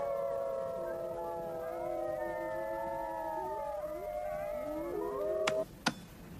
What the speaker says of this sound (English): Halfway through the howl, he changes an octave.